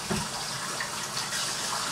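Lemon juice is poured lightly into water, making a brief, soft splashing trickle that lasts a couple of seconds with no talk.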